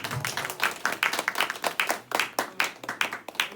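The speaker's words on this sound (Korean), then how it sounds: "우리 교수님께 다시 한번 큰 박수 드렸습니다" A lecture audience claps for a professor after a special talk, a fairly small group giving brisk, distinct, rhythmic claps in a steady patter that carries on without voices over it.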